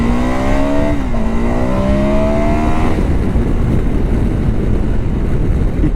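KTM 1290 Super Adventure S motorcycle accelerating hard, its big engine's note climbing steeply through a gear change before giving way to loud rushing wind buffeting the microphone.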